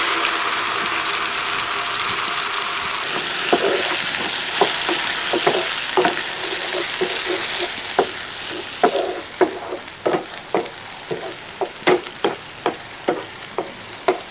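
Ground masala paste frying in butter with onions for restaurant-style paneer butter masala gives a steady, close sizzle, joined midway by rhythmic clicks and scrapes of stirring that grow sharper toward the end.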